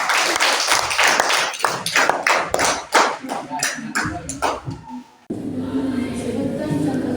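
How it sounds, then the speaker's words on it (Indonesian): A classroom group bursts into irregular claps and taps, some loud and close. The clapping thins out, then gives way to a steady murmur of room noise. "Oke, tepuk tangan dulu."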